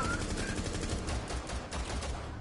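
Rapid automatic gunfire in the video game Rainbow Six Siege, a dense and steady burst of shots lasting the whole moment, close and loud.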